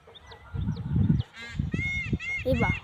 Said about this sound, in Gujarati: આ બાજુ અમારા ડુંગરામાં રાગ પાડે છે મોર